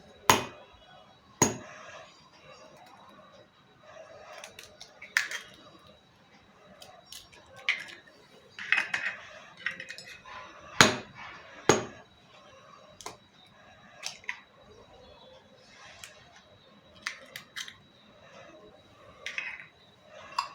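Two eggs with a little salt are stirred together in a bowl for an omelette, producing sparse, irregular clicks and taps of utensil against the bowl over a quiet background, with no speech.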